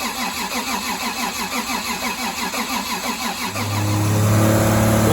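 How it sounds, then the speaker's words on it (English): A fully built, high-horsepower car engine cranks over with a rhythmic dry-cranking whir, then fires up and roars into a loud, steady idle close by. "Fully built motor, just fired up."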